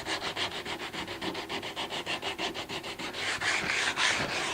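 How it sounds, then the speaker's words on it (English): Sandpaper rubbed in quick, even back-and-forth strokes to ease the sharp corners of a wooden Frugel Horn speaker cabinet; steady close scratching that grows slightly louder and rougher toward the end. "And you just take the edge off of a sharp corner with a bit of sandpaper."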